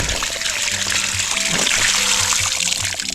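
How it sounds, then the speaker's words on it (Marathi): Water pours steadily to irrigate trees in a village orchard, a continuous splashing trickle heard up close with faint tonal background sounds and no talk. "चला लागलं सगळ्यांना झाडांना पाणी"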